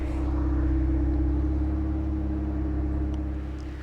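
A 2025 Ram Rebel truck's engine drones steadily while driving, a low smooth rumble with no growl or exhaust bark, loud and even throughout before easing slightly at the end.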